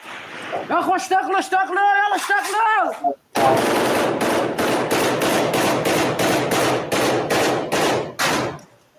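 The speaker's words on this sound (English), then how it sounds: "They're putting so many rounds down, his weapon becomes super hot. But he keeps firing." Machine gun fire in a combat zone from a weapon running hot, one short rattling burst, a brief pause, then a long run of loud, rapid, evenly spaced shots close by, with voices shouting over the firing.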